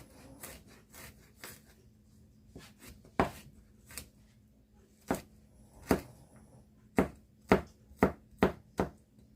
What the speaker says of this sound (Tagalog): Next is magtatadtad tayo ng bawang.